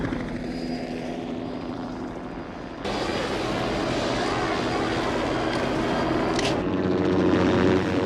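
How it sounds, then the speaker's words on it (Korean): A helicopter's steady rotor and engine roar fills the air in a classic horror film, growing louder and closer, with a sharp shift partway through as it lands at a base. "따라오던 헬기도 착륙하고"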